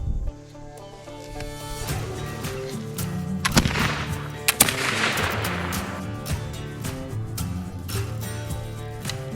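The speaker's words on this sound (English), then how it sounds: "But the gun was a pleasure to shoot, quick, and it was accurate." A McInturff rifle fired outdoors during squirrel hunting: two sharp, loud shots in quick succession stand out against a constant droning background.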